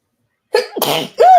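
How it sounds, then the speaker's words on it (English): A single loud sneeze, starting with a sharp intake of breath and ending in a burst, followed by a brief high vocal sound. "got to sneeze"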